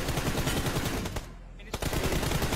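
Gunfire in the mobile shooter PUBG Mobile, with loud, rapid automatic bursts that fill the clip, a brief gap, then a sharp single shot before the firing resumes.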